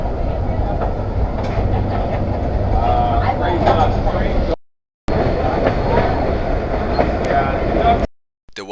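A scenic railroad train runs through Jim Thorpe in the Pocono Mountains, a steady rolling rumble with faint rhythmic clatter heard from on board, broken by two brief cuts, with people talking over it.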